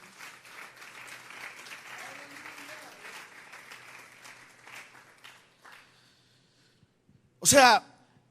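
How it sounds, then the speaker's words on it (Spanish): A church congregation claps in steady, moderately loud applause that fades out over several seconds. It is followed by a brief loud burst near the end. "Vamos a darle un fuerte aplauso al Señor"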